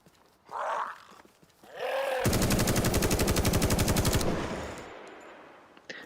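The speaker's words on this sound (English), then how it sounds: "the guns sound beefy and meaty." A fast automatic burst of video game gunfire in The Day Before lasts about two seconds and rings out loudly, followed by a rolling echo off hills, with scattered shots and rumbles before and after.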